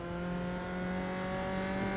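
A Formula 4 Tatuus race car engine in the Raceroom Racing Experience video game drones at a steady high pitch, a constant buzzing whine with no gear changes, alone and fairly quiet.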